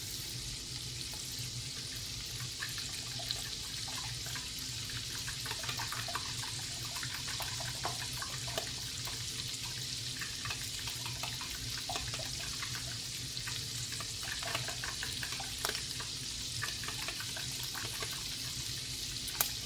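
Steady running water with a soft hiss, like a tap flowing into a sink, continuous and fairly quiet with faint clinks, no voices.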